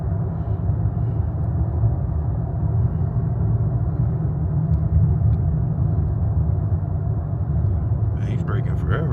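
Road traffic at a busy street near a car meet, a continuous low rumble of passing vehicles with a faint hiss of air brakes near the end, voices murmuring underneath.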